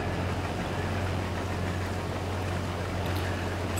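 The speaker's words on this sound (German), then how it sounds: "Während wir hier dreschen" A combine harvester threshes oats in Farming Simulator 22, a constant droning engine hum with no breaks or changes throughout.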